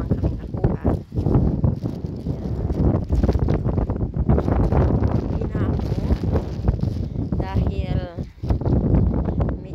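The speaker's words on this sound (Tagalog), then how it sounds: "medyo lumalakas ang hangin at giniginaw ko" Wind gusts hard across the microphone on a boat trip near an island, a rough, continuous low rumble that fills the whole stretch while a person keeps talking over it.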